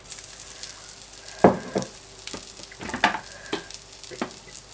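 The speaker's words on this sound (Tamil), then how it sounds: "வத்தல், அப்புறம் கருவேப்பிலை எல்லாம் நல்லா ஃப்ரை ஆனதுக்கப்புறம் பண்ணி வச்சுருக்கிற தக்காளி தொக்குலேருந்து கொஞ்சம் எடுத்து போடுறேன்" Tomato thokku goes into a pan of dried chillies and curry leaves that have been frying in oil. Soft sizzling carries through, with a few sharper crackles and stirring scrapes.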